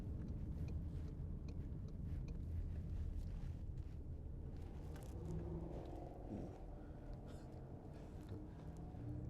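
A car overtakes and drives past a 2016 Volkswagen Passat 2.0 TDI on a road, its steady engine rumble and tyre noise rising and fading under constant cabin drone and wind.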